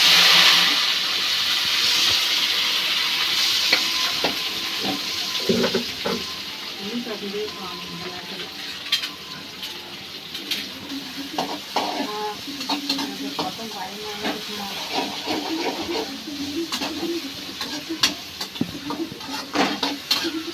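Sliced onions sizzle loudly in a hot pan in a home kitchen, with a strong hiss at first, then a spoon scrapes and stirs in repeated clatters as the frying continues.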